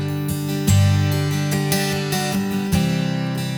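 Acoustic guitar strumming the verse chords of a song, steady sustained strums with fresh attacks near one second and late in the phrase, played alone and close.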